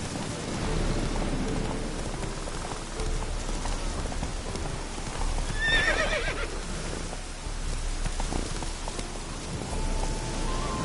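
Roach, the horse in The Witcher 3, moves through steady rain with a dense, hissing background. A short whinny rises near the middle and a low rumble runs underneath.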